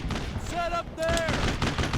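Gunfire in the World War II shooter game Brothers in Arms: dense, loud bursts of rifle and machine-gun shots crackle almost without pause, with a short lull midway before the firing swells again.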